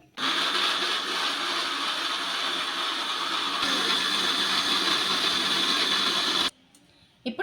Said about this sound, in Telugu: పెట్టేసుకొని మిక్సీ అయితే మెత్తగా పట్టేసుకోవాలి